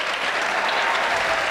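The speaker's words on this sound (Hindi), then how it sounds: "जरा एक बार ताली बजा दो" Audience at a Hindi comic poetry recital clapping steadily, a dense, even burst of applause filling the hall without a break.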